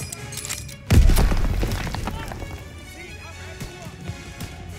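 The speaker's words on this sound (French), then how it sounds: "y'a une grenade" A grenade explodes in the Call of Duty WW2 campaign, a heavy low boom that rolls into crackling debris and distant gunfire, with battlefield noise continuing afterward.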